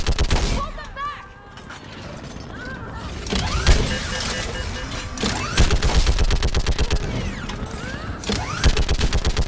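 Rapid sustained gunfire from Mass Effect 3 on Thessia, dense volleys of shots repeating steadily through the battle, loud and close, with brief voices and mechanical clatter mixed in.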